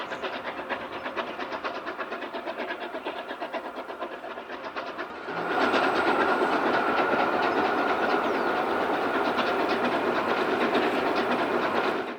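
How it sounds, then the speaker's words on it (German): A Rhaetian Railway steam locomotive hauls a special train up the 35-per-mille Albula line grade. Its steady exhaust chuff and rolling rail clatter run throughout and grow suddenly louder and fuller about halfway through, with hiss under the beat and no talk. "als der Zug das Albuler Viadukt 4 überquert"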